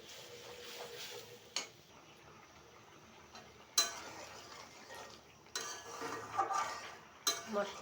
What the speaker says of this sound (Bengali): মশলাটা একটু কষিয়ে নিই ভালোভাবে।